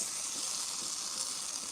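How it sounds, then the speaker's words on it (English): Steady, bright sizzling of Korean chicken cooking on a hot barbecue grill, a continuous close crackle with no talking. "Listen to that sizzle."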